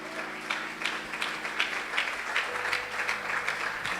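A church congregation at a gospel thanksgiving service applauding, steady crowd clapping with a sustained musical tone underneath, moderately loud and even.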